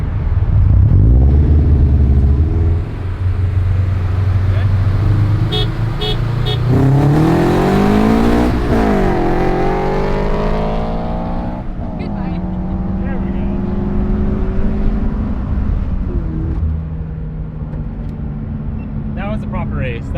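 A stock Scion FR-S and a Stage 2 Subaru BRZ accelerate hard side by side in a drag race. Engine tones climb and drop through gear shifts in a loud, continuous roar, with people talking over it.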